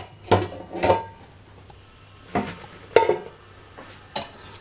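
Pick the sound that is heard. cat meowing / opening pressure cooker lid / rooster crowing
opening pressure cooker lid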